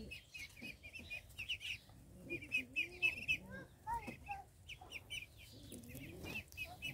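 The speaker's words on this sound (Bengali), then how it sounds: "এখানে 2টা মুরগি আছে," Two chickens on a small farm cluck softly in short, irregular bursts at close range, with faint bird chirps around them and no talking.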